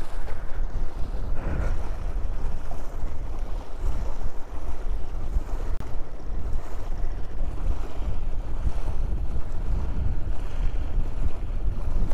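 A boat setting off across open water at Sathanoor Dam, with a low steady engine rumble, waves washing and wind buffeting the microphone throughout.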